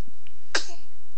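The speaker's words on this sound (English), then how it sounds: "Baby sneeze." A newborn baby, about twelve days old, gives a single short, close sneeze in an otherwise quiet moment.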